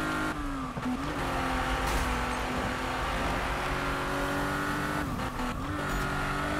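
A Porsche in the video game Need for Speed drives hard with a steady, loud engine drone, pitch sliding down and back up as it shifts and corners, with brief tire noise.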